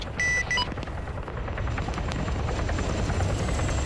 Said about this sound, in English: Pay no attention to the fire coming from my helicopter.